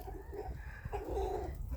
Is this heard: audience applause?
no